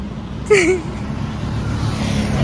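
A motorbike riding along a road near Bethuadahari forest, with a steady engine and wind rumble throughout and a brief high squeal or horn-like tone early on. Recorded from on the bike.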